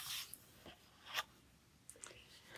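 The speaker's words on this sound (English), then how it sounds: "make sure you cut 2 of them out of this page" Scissors snipping pieces out of a paper craft page for a winter-themed scrapbook layout, a few short crisp cuts and rustles, close and fairly quiet, with no talking.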